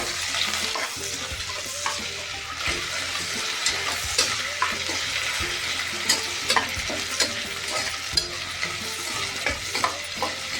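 Ginger-garlic paste and spices fry in a pan for bottle gourd biryani, a continuous close sizzle punctuated by frequent sharp stirring clicks of a spoon against the pan.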